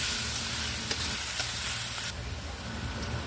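Boiled, cleaned pork intestines (isaw) being sautéed for Bicol express, a continuous sizzle and fry hiss in the pan with faint stirring scrapes throughout.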